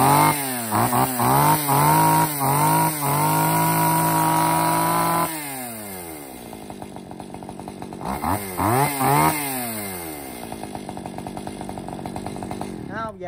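A Stihl 362 chainsaw engine, a Japanese-market used saw, runs loud and close, revving hard in repeated bursts, dropping to a rough idle, then revving up again with crisp throttle blips.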